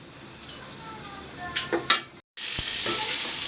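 Salted, turmeric-coated shrimp sizzle steadily in hot oil in a pan, with a few brief stirring scrapes and clinks, a short drop-out, then a louder, sustained hiss of frying.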